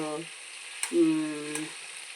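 Eggplant fries in oil with a continuous soft sizzle, while a voice is heard briefly near the start and then again in the middle over the frying.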